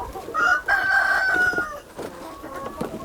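Hens in a chicken house fed fermented red-clay and soybean-pulp feed, giving a sustained crowing-like call with overlapping clucks, fairly close and continuous, with no talk.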